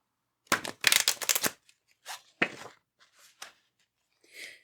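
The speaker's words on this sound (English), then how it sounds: "We'll do a shuffle with the tarot deck" A tarot card deck is riffled in a burst of rapid crisp flutters, then a few shorter separate shuffles and soft card slaps follow at close range, with no voice.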